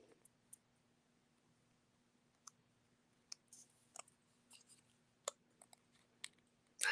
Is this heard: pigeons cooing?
no